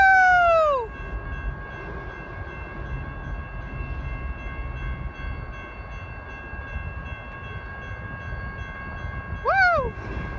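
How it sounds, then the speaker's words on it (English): A freight manifest train led by a Dash 9 locomotive passes close by, sounding its horn loudly at the start and again near the end over a continuous rolling rumble of wagons. "manifest train with the dash 9 leading"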